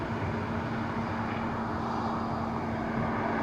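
A Boeing 737 MAX 8 airliner arriving at Dublin Airport, a steady broadband jet roar with a constant engine hum, loud and continuous throughout with no talk.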